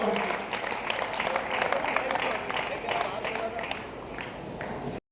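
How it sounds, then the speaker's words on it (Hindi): A live crowd at a Hindi comedy poetry show for Mahaveer Jayanti bursts into loud, dense applause that holds steady for several seconds, then cuts off abruptly. "दोनों हाथ ऊपर उठाकर जोरदार तालियां बजाकर भाई संदीप को"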